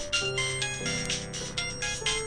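A mobile phone rings after a number is dialled, giving a clear, repeating melodic ringtone that sounds close and alone over a low background tone.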